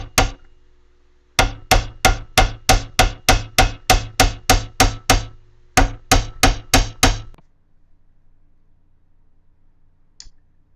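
A hammer taps a silver name plate into a channel in a rifle barrel: sharp metallic taps, a short burst of two, then a long even series of about a dozen, a pause, a further six, then near silence.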